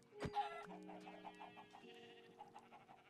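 Minecraft chickens cluck and squawk in a short burst, with a sharp crow-like call at the start followed by rhythmic clucking, fairly quiet.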